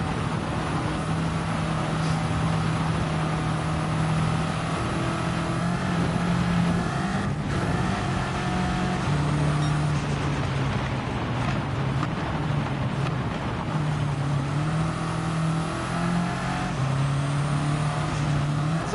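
A Volkswagen Beetle with 175 horsepower races in the Gran Turismo 7 video game, its engine droning steadily at a sustained pitch throughout, a continuous mid-level hum with no talk over it.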